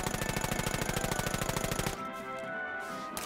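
Rapid automatic gunfire in The American Dream PSVR, a VR shooter, fired at tall garden hedges to cut them down; a fast, steady burst of loud shots for about two seconds, then stops, leaving a lingering tonal background.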